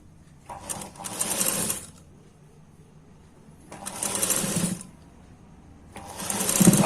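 Sewing machine stitching a collar on a blouse, running in three separate bursts of about a second each with short quiet pauses between, close and loud with no talk.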